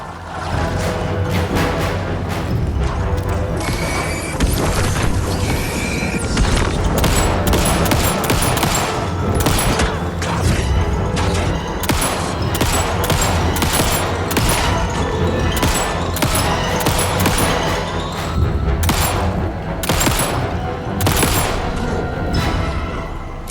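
Sustained rapid gunfire in the video game Alan Wake II, with dense, loud bursts of shots and impacts continuing for over twenty seconds, close and without speech.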